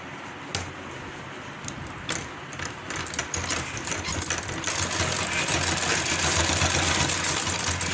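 A sewing machine stitches a folded border onto a kurti, a steady mechanical whir that starts quietly and grows louder and busier over the last few seconds, with a few sharp clicks early on.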